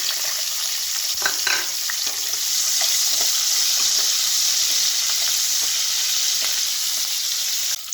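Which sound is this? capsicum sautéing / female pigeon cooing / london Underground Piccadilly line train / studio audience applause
capsicum sautéing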